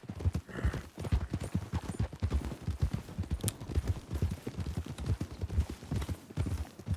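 Steady, rhythmic clip-clop of horse hooves trotting on a hard surface in a video game, close and continuous throughout.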